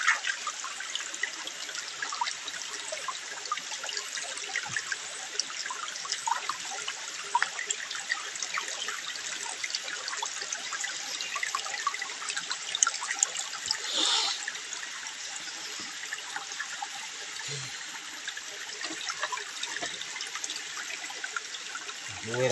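Water flows and trickles steadily outdoors while two people are out hunting, a faint, continuous hiss and patter with a few small splashes and no voices.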